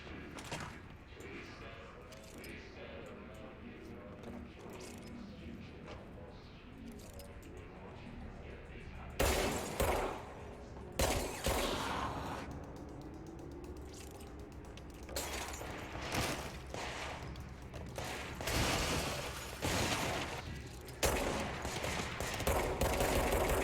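Gunfire in the video game Control rings out as scattered sharp bursts of shots with clattering mechanical noise, over a low, steady game ambience with some talk underneath.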